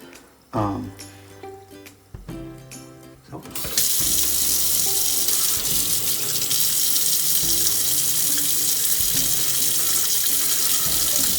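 A kitchen tap runs hot water to rinse a drain, a steady loud rush that starts after a few seconds of clunking and handling noises and continues unbroken to the end.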